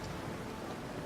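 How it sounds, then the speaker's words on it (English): Rain drumming on a ship's deck during a storm at sea in the video game Pillars of Eternity II: Deadfire, a quiet, brief patter of many drops forming a soft continuous wash. "The rain drums against the deck."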